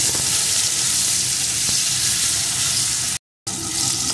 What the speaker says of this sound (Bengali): এখন আলুটা লাল লাল করে ভেজে নেব।